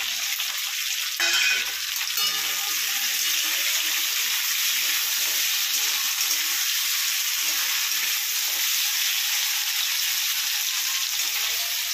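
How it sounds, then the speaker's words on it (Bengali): Chopped tomato drops into a pan of lightly fried meat, setting off a brief burst of crackling, followed by a steady, close sizzle. "এর মধ্যে এবার আমি এই কেটে রাখা টমেটোটা দিয়ে দেবো"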